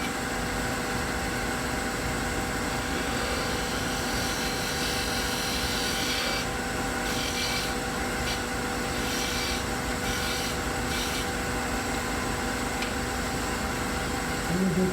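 Wooden finial being turned on a lathe while a tool cuts a cove, a loud, continuous motor hum and scraping whine that holds steady throughout with no pauses.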